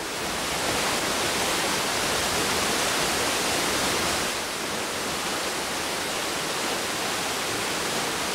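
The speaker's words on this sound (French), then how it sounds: "d'où surgissent des cascades ruisselantes, comme à la Topatari" A waterfall at Topatari in Tahiti pours in a steady, dense, hissing roar that stays loud and unbroken throughout.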